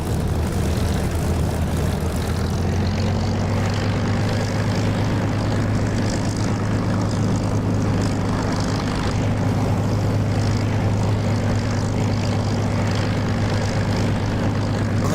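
A propeller aircraft engine in the DCS flight simulator drones steadily while taxiing, a loud continuous low hum with a strong tone that holds through the whole stretch, with no talk over it.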